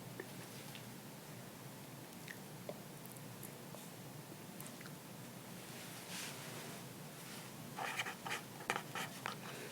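A pen writes steadily during a university VLSI signal processing lecture, giving a soft continuous scratching with short strokes that grow into busier, louder scribbles near the end. Nobody speaks.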